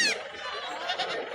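Goats bleating amid the crowd at Kadiri livestock market, with several overlapping calls rising over the steady murmur of a busy outdoor animal market, heard under nearby chatter.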